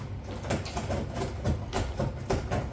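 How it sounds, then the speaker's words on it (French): Repeated rough scratching strokes, a steady rhythmic rasping of a cat's claws against a surface, close by with no talking. "Petit chat a décidé de faire ses griffes pendant que nous parlons."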